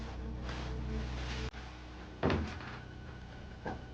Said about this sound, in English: Oh, the door just moved.